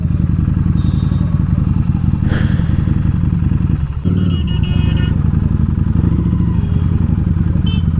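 A Harley-Davidson Street 750 fitted with a Vance & Hines exhaust idles loud and close with a deep, throbbing, uneven rumble, briefly dipping around the middle, with some clatter and faint background voices.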